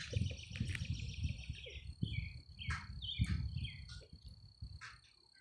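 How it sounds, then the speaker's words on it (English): Outdoors, birds chirp in quick, bright bursts over a low rumbling background of wind or handling noise, with the calls moderately close and overlapping before thinning out at the end. "I'm pretty sure he'll appreciate these birds chirping and stuff"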